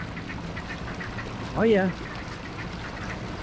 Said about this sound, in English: Yep. I hear you quacking.